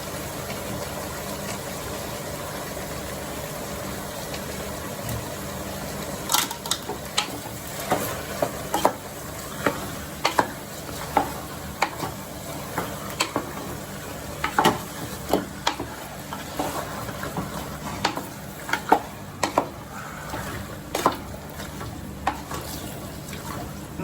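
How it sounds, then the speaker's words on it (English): Mutton and onions sizzle steadily in a hot pan for a nalli nihari, with a soft constant frying hiss broken by irregular clinks and scrapes of stirring, no voices. "Now we will let the mutton cook with onion for some time."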